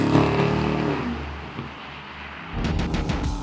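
A 2021 Aston Martin DBX SUV with a twin-turbo V8, nine-speed automatic and all-wheel drive pulls away with a low engine drone. Its sound shifts into a broader road and wind rush over the last second.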